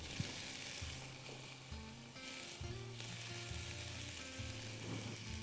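Onion and leek sauté in a mix of oil and butter for a quick Albanian casserole, giving a soft, continuous sizzle close by with occasional faint stirring clicks.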